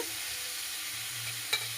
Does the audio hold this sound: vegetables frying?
yes